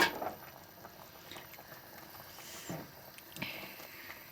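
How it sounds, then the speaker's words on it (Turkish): An eggplant and sucuk stew simmers slowly over low heat in a clay pot, giving a faint, quiet bubbling with soft liquid patter and occasional small pops. "Çok yüksek ısıya koymadığımız için çömleğimizde ağır ağır pişiyor."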